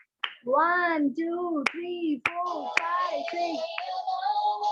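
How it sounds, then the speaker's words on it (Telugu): Children clap at the closing day of a church vacation Bible school, making a handful of sharp, separate claps at an uneven pace while young voices count aloud over them nearby. "గట్టిగా చప్పట్లు కొట్టాలి."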